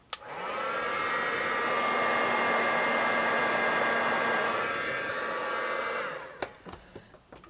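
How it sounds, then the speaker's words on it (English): A heat gun blows hot air over freshly applied black paint on a handmade shabby chic craft piece, a steady, loud whooshing hum lasting about six seconds before switching off, followed by a few faint clicks and handling taps. "I'm just gonna blast it with the heat gun so I can go over it"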